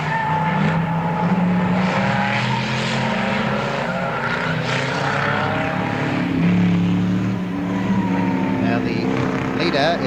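Morris Mini Cooper S race cars run in single file at the 1969 Warwick Farm race, a constant engine drone heard from a distance beneath steady commentary.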